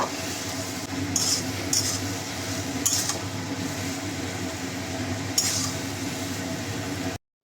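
A spoon stirs prawn and taro leaf curry in a pan with faint scraping and occasional metallic clinks against the pan, under a steady low sizzle heard up close.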